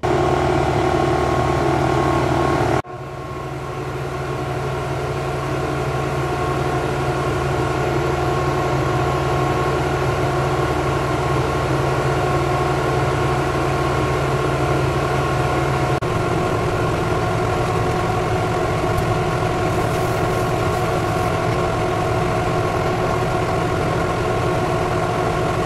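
A laser cutting machine cuts gold acrylic for a cake topper, running as a loud, steady mechanical hum with a constant fan drone and a brief drop near the start.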